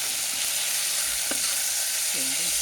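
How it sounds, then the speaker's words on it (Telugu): Mutton chops frying with onions and ginger garlic paste hiss and sizzle steadily in a hot pan, a close, continuous crackle broken by a faint clink of stirring. "ఉల్లిపాయలు అల్లం వెల్లుల్లి పేస్ట్ వేసి వేయించేసాను."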